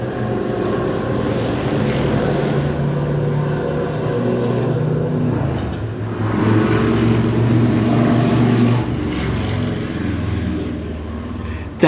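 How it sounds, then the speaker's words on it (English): Three motorcycles pass along a residential street, building into a loud, rumbling drone that swells and then fades as they go by, with no one talking. "That's just three motorcycles from the cycle club."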